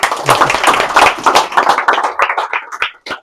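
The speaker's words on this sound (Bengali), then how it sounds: "সব একটা জোরে একটা হাততালি দাও।" A group claps together loudly for about three seconds at a small gathering honouring a BSF selection, steady close applause that thins out into a few last claps.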